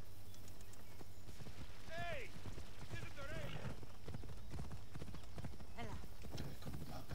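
A horse's hooves clip-clop at a steady, close trot throughout in Assassin's Creed Odyssey, with a few whinny-like calls rising over the footfalls.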